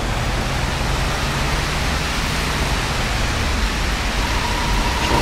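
Rain in the bus-driving game Fernbus Simulator, set in Warsaw, forms a dense, steady wash of loud hiss with a faint low engine hum beneath, holding constant without pause.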